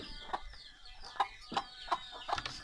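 Chickens cluck in short, separate bursts, about five over a few seconds, close and moderately loud against a faint outdoor background, with no talk.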